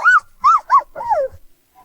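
A puppy lets out a few high, whiny yelps in quick succession, ending in a longer drawn-out whimper, close and clear.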